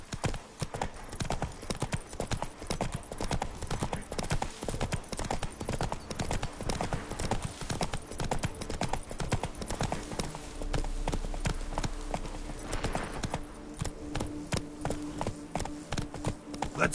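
Roach, a horse in Witcher 3, trots with a steady, rapid clip-clop of hooves throughout, moderately close, with soft ambient game sound beneath and no talking.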